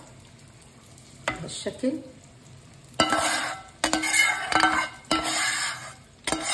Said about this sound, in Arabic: واصب عليه شوية صوص